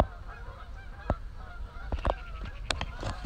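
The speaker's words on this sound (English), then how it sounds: "Look, I'll show you the geese. Look at the geese." A flock of geese honks in short, repeated calls near a carp-fishing lakeside bank, the cries growing busier and overlapping as the birds take off, with low outdoor rumble underneath.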